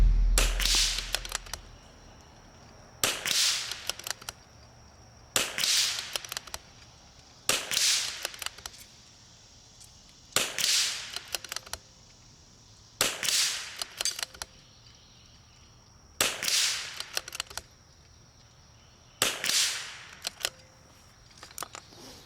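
Eight evenly spaced sharp .22LR rifle shots from an MCR RIMX (Zermatt Arms RIMX) fired at a 100-yard KYL steel rack, each crack with a short decaying tail and pauses of a few seconds between; no voices.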